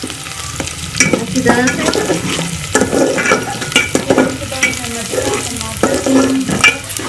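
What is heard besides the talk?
frying onions until light brown for jeera pulao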